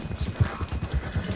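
Horse hooves clip-clop at a steady walking rhythm in Red Dead Redemption 2, a short close run of distinct thuds with no talk over them.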